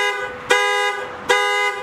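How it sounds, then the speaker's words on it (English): A Lexus IS300 car alarm blares its horn in two sharp, evenly spaced honks, each a loud harmonic tone sustained for most of a second, heard clearly and alone. "The car alarm fucking works."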